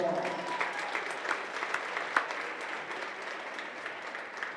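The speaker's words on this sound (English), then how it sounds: "Let's give them a round of applause." An indoor audience at a home girls wrestling meet claps in a dense, steady round of applause that gradually thins, with a voice speaking briefly at the start.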